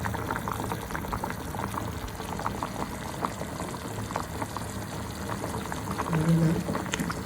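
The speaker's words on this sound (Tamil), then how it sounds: "தேங்காய் குழம்பு நல்லா கொதிக்க ஆரம்பிச்சிருச்சு" A pot of coconut kurma gravy made with lima beans bubbles steadily on the stove with a dense, continuous simmering burble. The sound is close and even, with a slightly stronger gurgle near the end.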